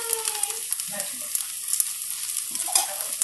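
Semiya dosa made from vermicelli sizzles steadily on a hot pan as sesame oil is poured into its holes, a constant bright crackling hiss with small pops, close up and fairly loud.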